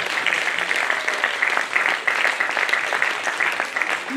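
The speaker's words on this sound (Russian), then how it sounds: "большие овации им дали" An audience applauds continuously at a gala concert, a dense, steady clapping from many hands with no pauses.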